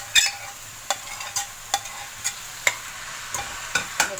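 Singapore rice with vegetables and dark soy sauce is stirred in a pan, with a soft background sizzle broken by about ten sharp, regular scrapes and clacks of a spatula against the pan.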